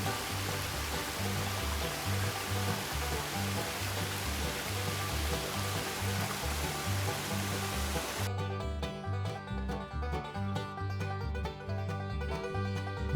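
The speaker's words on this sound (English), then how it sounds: "Looking at this amazing waterfall" A waterfall flows on the Appalachian Trail, a steady full rushing of water that carries on throughout, joined partway by a soft backing of music.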